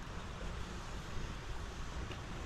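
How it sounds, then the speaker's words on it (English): Ocean waves wash onto a beach in a steady, broadband roar of surf, heard close and fairly soft, with no talking. "I love the waves. It's so relaxing in the background."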